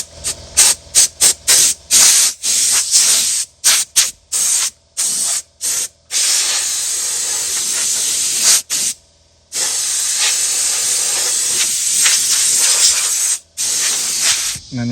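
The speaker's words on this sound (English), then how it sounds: "I'm just going to use some compressed air and blow it out." Compressed air blasts into the battery tray of a 2006–2011 Honda Civic: loud hissing bursts, first a quick run of short sharp puffs, then longer sustained blows with brief pauses between.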